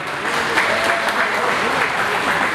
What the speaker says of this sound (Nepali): प्रसन्नलाई एकचोटि मिल्छ भने ताली बजाइदिउँ